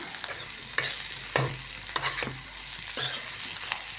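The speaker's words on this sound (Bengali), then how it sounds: "আর এখানে ছেলের জন্য চিংড়ি মাছ একটা ভাজি করে দিচ্ছি। আর এখানে করলা ভাজি।" Shrimp and bitter gourd fry in a pan, giving a bright continuous sizzle with a few scraping stirs and clatters of a spatula against the metal.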